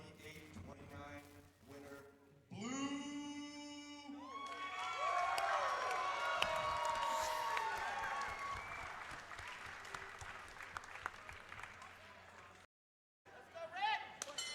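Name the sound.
crowd cheering at a kickboxing fight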